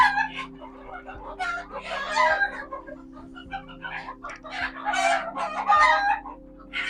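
Free-range country chickens on a poultry farm holding about 900 birds, a dense chorus of clucking and repeated crowing from several birds, some near and some farther, over a steady low mechanical hum.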